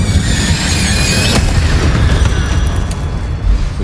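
Fire-spell blast cast with Incendio in the video game Hogwarts Legacy: a loud, dense burst of low rumble and crackle carrying on for several seconds, with one sharp crack near the middle and no talking.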